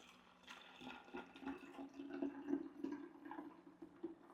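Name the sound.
filling a container with hot water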